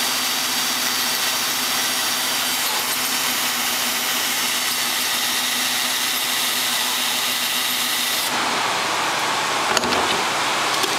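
Drill bit grinding steadily through a thick glass borscht jar, a continuous loud whirring hiss that stops abruptly near the end, leaving quieter background.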